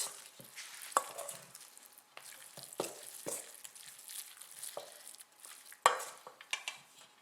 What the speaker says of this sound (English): Then add 2 to 3 tablespoons of vegetable oil. Mix it through a little.